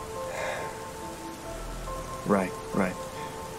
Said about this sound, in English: We're in the rain.